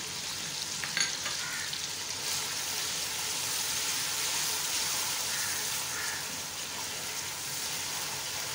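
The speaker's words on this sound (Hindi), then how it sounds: "फ्राई होना शुरू हो गया और प्यारी सी खुशबू आना शुरू हो गई है लहसुन अदरक की।" Garlic-ginger paste and whole spices frying in hot oil for degi mutton korma, a steady close sizzle with a faint clink or two, no voices.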